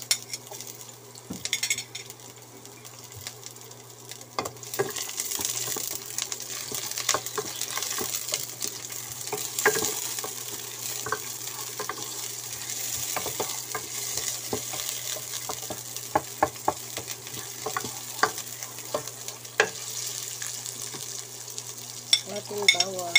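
Onions sautéing in a pan for a Filipino gisado, a steady sizzle with scattered clinks and scrapes of a utensil against the pan throughout, close and fairly loud, no talking.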